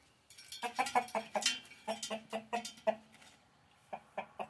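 A rooster gives a rapid run of loud, close, rhythmic clucks and squawks that keep going for several seconds, with short pauses between bursts and no one talking over it.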